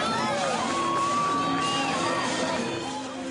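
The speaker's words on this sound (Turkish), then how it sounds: "Kurtlar Vadisi'nin oyuncuları salona alkış tufanının arasında girdi" Dense crowd of university students cheering, whooping and applauding in a hall at Gazi University as actors enter, a loud continuous roar of voices and claps with shouts rising above it.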